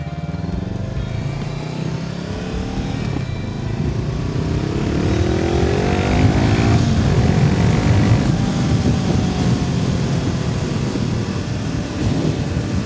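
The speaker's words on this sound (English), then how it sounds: "The pops on the downshifts, those are nice." A Honda CBR500R, a 500cc motorcycle, roars along at close range with a steady engine drone. The pitch rises and falls through the gear changes, and faint exhaust pops sound under the engine noise on the downshifts.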